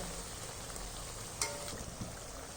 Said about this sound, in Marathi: तर खालची साईड चांगली लालसर होईपर्यंत आपण तळून घेतलेली आहे।